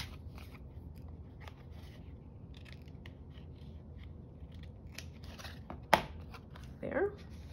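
Scissors trim a piece of a paper craft project close by, a sharp single snip followed by a brief cluster of cutting and rustling sounds against a quiet room background with faint handling noises.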